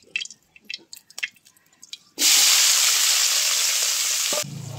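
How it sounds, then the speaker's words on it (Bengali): Fish fries in oil in a wok, then onion and chopped green chili are added, giving a sudden loud, steady sizzle after a few scattered crackles and spatters. The sizzle drops in level near the end. "এখন কড়াইতে ওই তেলের মধ্যে পেঁয়াজ এবং কাঁচামরিচ কুচি দিয়ে ভেজে নিতে হবে।"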